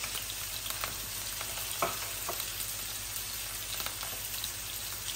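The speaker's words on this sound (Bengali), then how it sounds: "আমি সম্পূর্ণ সব কিছু একসাথে ভাজা ভাজা করব।" Frozen vegetables and onion frying together in a pan, a quiet, continuous crackling sizzle with scattered pops and a low steady hum underneath, and no one speaking.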